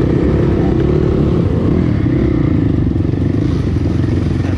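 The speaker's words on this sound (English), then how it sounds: "Riding a Husqvarna 510." Husqvarna 510 dirt bike riding a muddy trail, engine droning loud and steady throughout with clattering and rough mechanical noise, very close.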